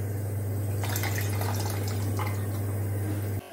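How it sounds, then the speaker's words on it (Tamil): Tamarind water is poured into a pot of Tamil kuzhambu, a short splashing pour lasting about three seconds over a steady low electrical hum. "எந்த அளவுக்கு புளி வந்து தண்ணி வேணுமோ அந்த அளவுக்கு வந்து நம்ம ஊற்றிக்கலாம்."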